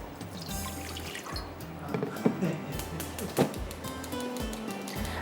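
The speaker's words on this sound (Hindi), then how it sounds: "थोड़ा डालेंगे इसमें पानी।" Water poured from a vessel into a cooking pot for shrimp chow mein, heard as a few seconds of near, uneven splashing and trickling with a couple of sharper drips.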